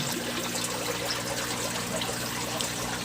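Air bubbles rising through the water of a crayfish tank, a steady, close bubbling trickle without pause and with no voices.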